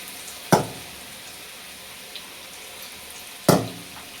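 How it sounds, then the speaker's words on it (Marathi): Potato bhaji fritters dropped into hot oil, two sharp splashy bursts of frying a few seconds apart over a low steady sizzle, close by and without talk. "मस्त असे छान भजे सोडायचे"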